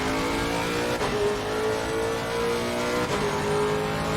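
A race car engine in the sim racing game Assetto Corsa Competizione drones at high revs, a steady loud whine with two quick gear-shift dips, alone without talk.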